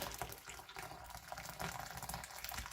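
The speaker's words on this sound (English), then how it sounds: "pour some more water on it" Faint, steady splashing of water poured over an unsmoked gammon joint sitting in a slow cooker, a quiet continuous wash of liquid heard close up with no talking.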